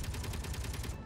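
Gatling guns on a Star Citizen Merlin fighter fire in Space Engineers, a continuous rapid mechanical rattle with rhythmic pulsing bursts, loud and steady throughout with no talking.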